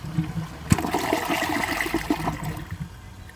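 A 2018 WaterRidge one-piece toilet flushes with a sharp clunk of the handle, then a steady rush of swirling water for about three seconds that eases toward the end, with no talk.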